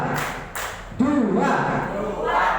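A class at an Indonesian school performs a 'tepuk' clapping routine, with a couple of sharp group claps early on followed by voices talking.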